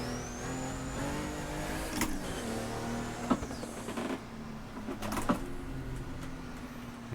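Race car engine in Assetto Corsa's DRM Revival Pack, revving hard in second gear with a steady harmonic drone and rising and falling pitch sweeps, plus a few sharp clunks and bursts over continuous loud engine noise.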